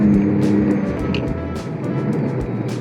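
A 2004 Porsche 996 Turbo with Tiptronic transmission drives along, its engine a steady close, loud hum with faint road noise, no clear gear-shift breaks.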